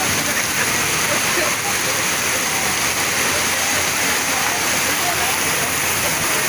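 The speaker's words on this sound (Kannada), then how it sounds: "ಇಲ್ಲಿ ಈಗ ಚರಂಡಿ ಇದ್ರೂ ಯಾವ ರೀತಿ ನೀರು ಬರ್ತಾವ ಅಂತೇಳಿ ನೋಡ್ರಿ" Floodwater rushing through the streets and over drains during heavy rain in Sirsi, a steady loud wash that runs the whole clip with a little talk in the background.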